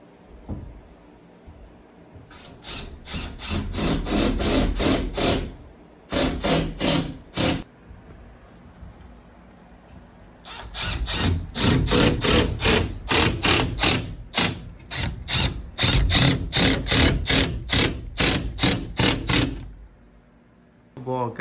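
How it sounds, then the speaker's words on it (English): A power drill drives screws into wood in a screen printing shop renovation, loud rapid ratcheting bursts in several long runs separated by brief pauses. "Let's drill this in."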